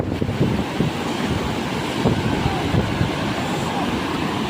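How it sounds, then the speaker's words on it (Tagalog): Ocean surf rushes and breaks close by while strong wind buffets the microphone, keeping a constant roar throughout. "Ayun na alon!"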